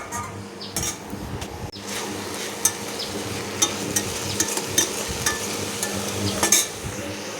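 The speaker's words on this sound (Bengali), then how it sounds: "বাঁধাকপির আলুগুলো দিয়ে দিয়েছি ভাজতে।" Potatoes for a cabbage dish frying in a pan on an induction cooktop, with a continuous close sizzle and repeated sharp scrapes and taps of a stirring utensil.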